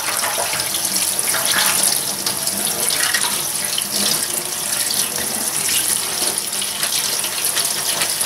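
Tap water runs steadily over cooked macaroni being rinsed and drained for a chicken macaroni salad, a continuous close splashing gush with no voices.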